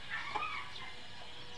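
Backyard farm chickens at feeding time, including hens with chicks, give a few light, fairly faint clucks and chirps over steady background hiss.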